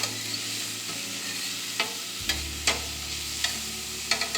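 French-cut green beans sweating in a pan, stirred around: a steady sizzle runs throughout, broken by several light scraping clicks of a utensil against the pan, with no talking.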